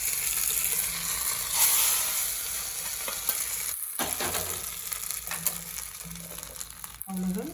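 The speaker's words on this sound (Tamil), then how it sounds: "இதுலேயே நல்லா பொரிஞ்சிடணும் கருவேப்பிலை." Curry leaves frying hard in hot oil for a chutney tempering, giving a loud, steady crackling sizzle with brief dips and flare-ups, close and dense throughout.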